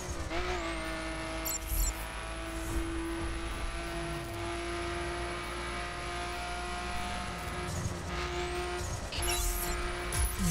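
A Nissan Skyline GTR in The Crew racing game holds a loud sustained engine drone with a high, piercing turbo whistle, climbing in pitch as it revs and shifts, with a couple of brief bursts of tire or impact noise.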